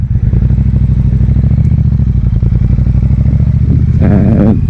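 A motorcycle engine drones loudly and steadily close by, with a rattling, juddering texture as the bike rides over a rough, bumpy road.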